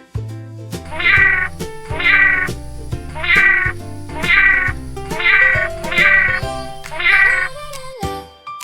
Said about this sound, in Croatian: Bravo, to je mačka.